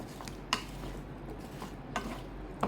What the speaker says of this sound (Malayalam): ഇനി എല്ലാം കൂടെ നമുക്കൊന്ന് മിക്സ് ചെയ്തെടുക്കാം.